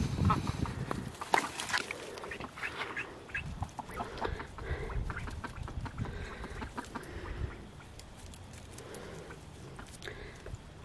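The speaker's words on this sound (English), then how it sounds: "the ducks and the chickens seem to be mingling all right" Ducks and chickens share a pen, giving scattered clucks and quacks over a steady rustling background, with occasional footsteps and nobody speaking.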